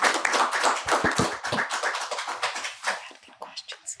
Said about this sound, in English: Let's give one more round of applause to our amazing panelists.